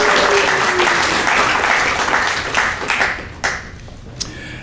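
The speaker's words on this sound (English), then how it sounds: "So give everybody a round of applause for that." Audience applause fills a graduation-style celebration hall, dense and steady clapping that gradually thins out and fades toward the end, with a few scattered claps lingering.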